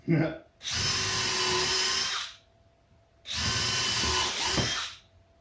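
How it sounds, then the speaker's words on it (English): A power drill driving into wood whines loudly in two long bursts, each about a second and a half, with a brief quiet gap between them. "we lost the drill bit on that one"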